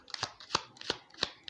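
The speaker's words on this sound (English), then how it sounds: "So as I'm shuffling" Tarot cards are shuffled close by in a soft, quiet setting, four crisp riffling bursts spaced at a steady rhythm with faint rustling in between.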